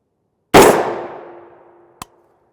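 A single loud M855A1 rifle round fired at a Level IV armor plate, a sharp blast with a long ringing metallic decay, then a brief second clank just before the ring fades out.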